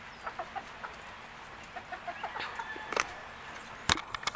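Hens cluck in short, scattered bursts at moderate distance around nest boxes, with a sharper squawk near the end over a quiet background hiss.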